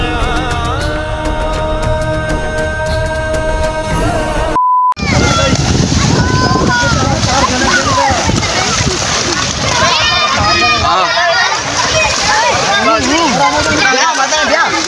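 Water splashes loudly as a family bathes in a pool at a farmhouse on a Balochistan picnic trip, continuous churning and slapping close by while children and adults shout and talk over it, following a brief stretch of music.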